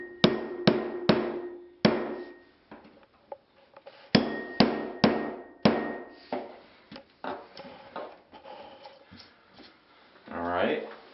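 Hammer striking a nail punch to set popped drywall nails back into place: sharp, ringing metallic blows in uneven clusters, some rapid and some spaced out, with a scraping, rustling handling noise near the end.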